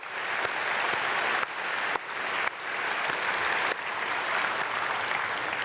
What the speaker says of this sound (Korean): 박수 크게 하겠습니다